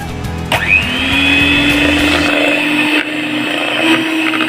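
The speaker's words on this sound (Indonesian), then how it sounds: "Mixer hingga warnanya berubah menjadi pucat." An electric hand mixer beating butter, margarine and powdered sugar for cookie dough, running loud and close with a steady high whine that starts abruptly and stays even, with the beaters churning against the bowl.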